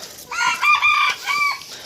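A young rooster crows nearby, a loud, strained call in two rising and falling bursts.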